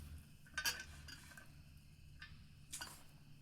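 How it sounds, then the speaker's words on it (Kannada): Potato masala being mixed with chopped onion and jaljeera powder for homemade pani puri, heard as a few faint, sparse clinks and scrapes of a spoon against a bowl, with quiet pauses between. "ಈರುಳ್ಳಿ ಮತ್ತು ಸ್ವಲ್ಪ ಜಲ್ಜೀರ ಹಾಕಿ ಕಲಿಸ್ತಾ ಇದ್ದಾನೆ"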